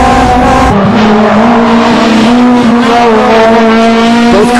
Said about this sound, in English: Looks like the tires on both cars are losing traction.